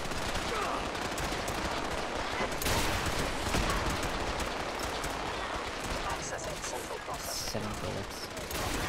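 Rapid gunshots in the video game Fallout 4, dense machine-gun-like bursts firing nearly nonstop at close range, loud and crackling, with a voice talking over parts of it.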